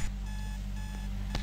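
An alarm clock unit in a video game rings with a steady electronic buzzing and beeping tone that runs continuously at moderate loudness, with no talk over it.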